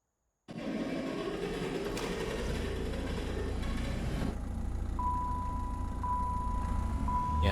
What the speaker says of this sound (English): this really doesn't sound healthy. Yikes. I should probably leave the car running for a bit.